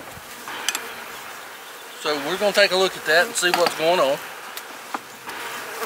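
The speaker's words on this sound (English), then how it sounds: "So yeah, colony's looking good. A lot of bees in it." A honeybee colony buzzes steadily in an open hive, a low continuous hum beneath someone speaking up close.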